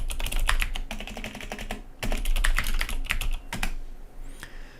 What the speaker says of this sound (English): I'm going to type in navigation pane